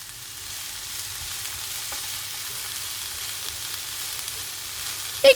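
Bell peppers frying in oil with salt, a soft steady sizzle with occasional light stirring clicks and a brief utensil knock at the end.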